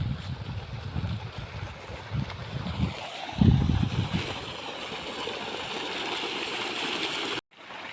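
Cool night wind sweeps across an open farm field, a steady broadband rush with low buffeting gusts against the microphone. A dull thump comes near the middle, and the sound cuts off abruptly just before the end.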